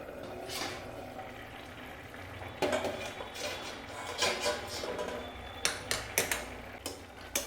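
Pot lid lifted off vegetables boiling for an oil-free potato and poppy-seed curry, giving a few sharp metallic clanks and knocks over a soft bubbling background, fairly quiet and close.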